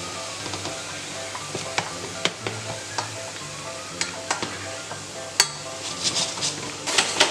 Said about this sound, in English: I'm going to take the lid off and just let that simmer